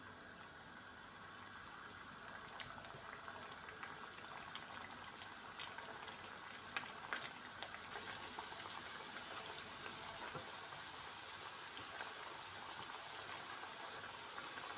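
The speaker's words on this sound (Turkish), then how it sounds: "şimdi tavamızın içine yağımızı alalım ve kızartmaya başlayalım" Potato pişi dough fries in hot oil in a pan, giving a steady, dense sizzle with fine crackling pops, close and continuous, with no talking.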